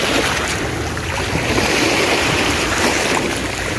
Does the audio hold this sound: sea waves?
yes